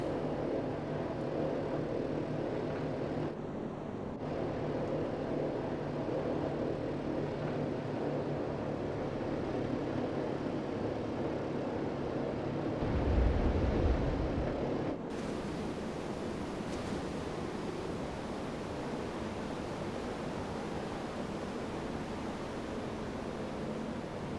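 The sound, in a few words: Grumman HU-16 Albatross water landing, video game MSFS 2024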